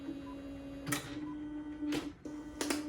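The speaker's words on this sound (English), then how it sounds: "It was Canon's first bubble jet printer." A Canon BJ-130e bubble jet printer runs with a steady electrical hum and thin whine, broken by three short bursts of carriage and paper-feed clatter at roughly one-second intervals, fairly quiet and close.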